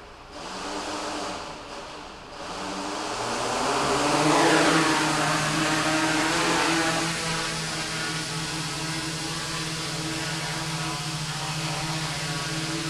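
Quadcopter 450 frame with a NAZA flight controller, its motors whining up as the throttle rises toward half, a steady broadband buzz with rising pitch sweeps that settles into a constant loud drone.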